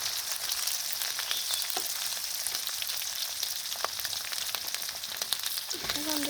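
Spices frying in hot oil while being stirred, a steady hissing sizzle with occasional scraping clicks of the spoon, moderately loud and unbroken.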